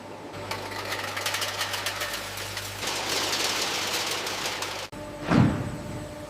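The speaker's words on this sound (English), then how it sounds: "They are polished for days in special machines until perfectly spherical." A machine polishing steel bearing balls in a factory whirs and rattles steadily with dense rapid clicking, then a sharp break is followed by a brief louder swell.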